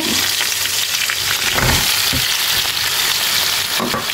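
Chicken pieces returned to a hot pan with paprika for afritada sizzle and crackle steadily and loudly, with a few louder stirring bursts partway through.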